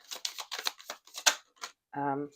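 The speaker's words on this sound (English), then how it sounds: "But you can see they actually shuffle really beautifully." Tarot cards from an antique anatomy deck being shuffled by hand, a run of quick papery riffles and slides close to the microphone, ending in a short buzzing tone.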